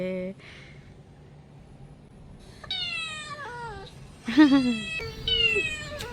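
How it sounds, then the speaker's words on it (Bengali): A cat meows several times close by, drawn to the sound of another cat playing on a mobile phone. The calls are drawn out and rise and fall, with some talking around them. "মানে মোবাইলের মধ্যে বিড়ালের সাউন্ড শুনে আরেক বিড়াল এসে পড়ছে"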